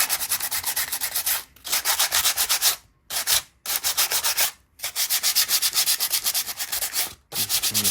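Light hand sanding scuffing a plastic surface before painting: rapid, steady back-and-forth rasping strokes in bursts, loud and close, separated by several short pauses.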